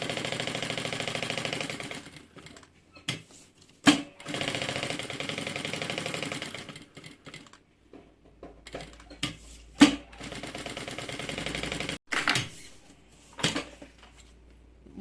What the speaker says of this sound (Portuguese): Eu vou costurar bem na beiradinha. Só para segurar esse forro.